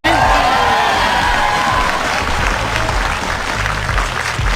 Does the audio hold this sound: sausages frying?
no